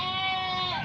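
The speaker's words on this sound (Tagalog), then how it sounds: "May kambing pa." A goat on a farm in San Isidro, La Union gives a single short, nasal bleat, fairly close and clear.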